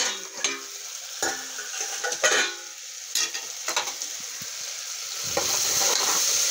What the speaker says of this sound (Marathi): टमाटर घातले, टमाटर 2 मिनिटं शिजू देऊ।